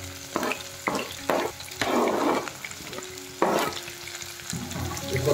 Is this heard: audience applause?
no